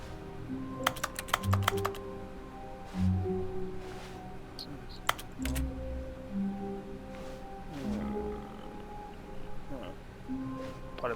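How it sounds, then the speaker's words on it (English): Keyboard typing noises from the video game The Stanley Parable: Ultra Deluxe, sounding as quick clusters of clicks in short bursts over a low hum of background game sound. "It just makes keyboard noises."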